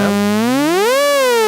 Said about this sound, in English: sine ramp,